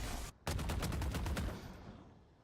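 Rapid burst of submachine gun fire in the tactical shooter Valorant during a professional VCT Americas match on the Haven map, a dense loud rattle of shots that ends abruptly and trails off.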